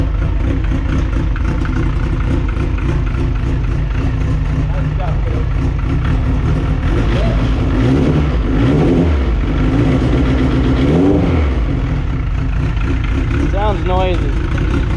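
A Honda CRX engine runs steadily just after being fired up, a loud, close, rough mid-pitched drone throughout, with brief rises in revs and people talking over it.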